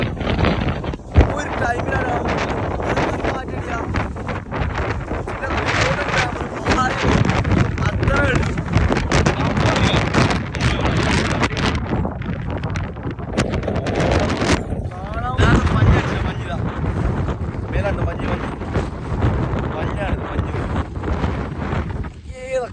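Strong wind roars into the microphone the whole time in snowy conditions, a loud, constant rushing buffet, with voices faintly underneath.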